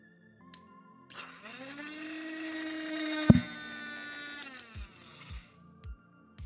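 A small handheld vacuum cleaner for keyboards whines up at about a second, runs with a high buzzing motor tone for roughly three seconds, then spins down; a sharp clunk in the middle and a few soft knocks follow as it stops.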